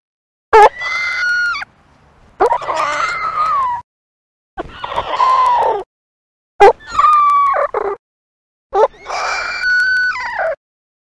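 A chicken gives a warning call as a hawk passes overhead, five loud, shrill, strained squawks, each lasting about a second, separated by short silences, close to the microphone.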